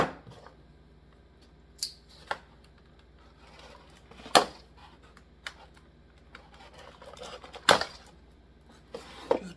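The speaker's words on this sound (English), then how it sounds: "We'll cut these little cables, clamp downs." A few sharp, isolated snips ring out as cutters bite through small plastic cable ties holding a Sky Rover KnightVision helicopter drone in its packaging, spaced several seconds apart in a quiet room.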